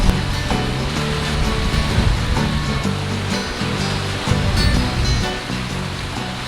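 Ocean waves at a beach wash in as a steady, loud surf roar that swells and eases slightly, with no talking.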